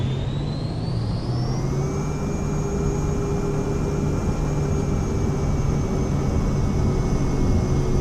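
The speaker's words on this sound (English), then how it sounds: "Takeoff power set, let's roll and go." Vision Jet at full takeoff power rolling down the runway in Microsoft Flight Simulator, a steady loud jet whine and rushing roar whose pitch climbs briefly at the start, then holds level with no talking.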